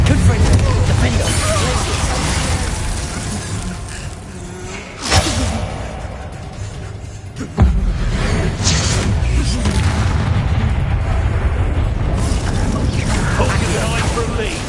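Spell blasts from Confringo casting in Hogwarts Legacy on PS5, a dense run of booming bursts and whooshes with two sharp impacts standing out, loud amid continuous game clamor and voiced spell calls.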